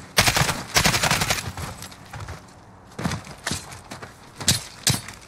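Gunfire in the video game Call of Duty Modern Warfare: several bursts of rapid shots, loud and sharp, separated by short pauses, with no talk.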